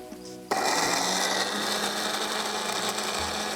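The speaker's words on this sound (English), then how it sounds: "You're just going to set this in the grinder and" A kitchen grinder blends lime juice and nuts into a pesto paste, kicking on abruptly with a loud, steady whirring roar that runs close and continuous.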